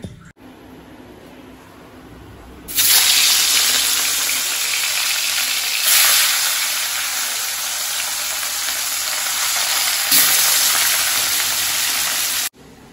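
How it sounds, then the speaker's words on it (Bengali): Steady sizzling hiss of food frying in hot oil, starting abruptly and continuing loud and close with slight swells. "আর এই যে এখানে পেঁয়াজটা ভাজা এখন চলছে"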